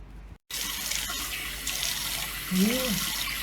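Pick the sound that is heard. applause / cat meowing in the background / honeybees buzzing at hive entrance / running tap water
running tap water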